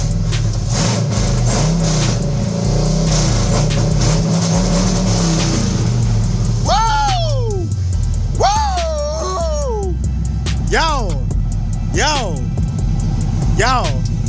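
LS-swapped 1983 Camaro engine idling loudly, then blipped in several sharp revs that climb and fall, the last bursts spaced a couple of seconds apart, with a steady low rumble throughout.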